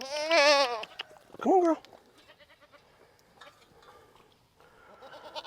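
Goats, including a baby goat, bleating in a farm pen: two loud wavering bleats close by in quick succession, followed by quieter shuffling and movement, with a person speaking briefly to the animals.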